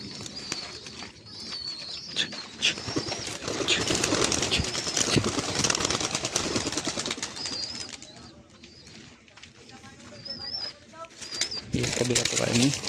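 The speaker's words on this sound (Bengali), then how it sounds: "তো চলো পায়রাগুলোকে ছাড়ি" Female pigeons released outdoors to a landing stand, wings flapping and soft cooing and chirps scattered through, with a person talking over parts of it.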